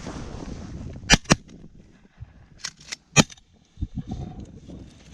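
Shotgun blasts during a goose hunt in a Colorado snowstorm: sharp, loud reports in quick pairs and short clusters, several hunters firing at once outdoors, followed by quieter rustling.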